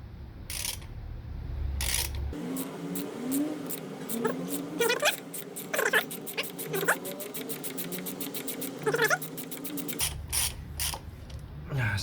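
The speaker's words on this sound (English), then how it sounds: "I've got a 14mm socket on the pin pusher" A chain breaker tool with a 14mm socket on its pin pusher forces a rivet pin out of a GPZ600R motorcycle chain, producing close, rapid ratcheting clicks and creaky metallic squeaks over about eight seconds, with handling noises before and after.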